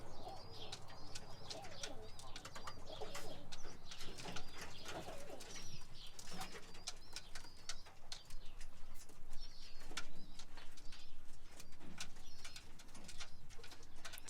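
Young homing pigeons coo softly in a loft, a steady murmur of low calls with occasional chirps and wing flutters over about fourteen seconds, with no talking.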